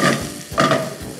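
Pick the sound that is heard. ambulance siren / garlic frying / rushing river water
garlic frying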